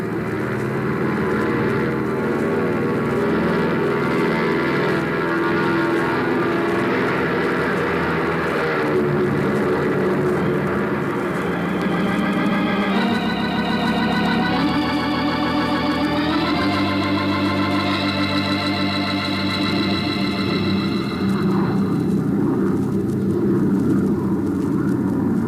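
Airplane taking off as a radio drama sound effect: a loud, steady droning engine roar that rises in pitch as it builds power, continuous throughout and heard alone.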